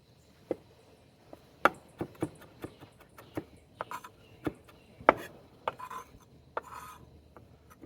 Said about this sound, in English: chop them up a little fine